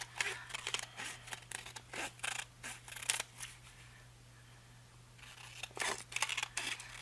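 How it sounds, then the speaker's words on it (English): Scissors trim a paper piece for a No.10 envelope wrap-around pocket craft in a run of quick, close, crisp snips, a brief pause, then another burst of cutting over a faint steady hum. "I'm going to trim this piece off"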